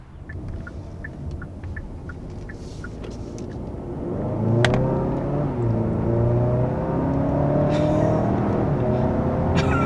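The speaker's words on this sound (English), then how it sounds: "And there is 60 miles an hour in the all-new 2021 Kia Sorento" A 2021 Kia Sorento with a 2.5-liter turbo engine accelerates hard to 60 mph, its engine note climbing steadily in pitch through quick gear shifts, loud and close.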